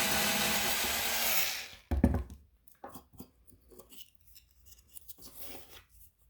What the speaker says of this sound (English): with my drill, properly placing it.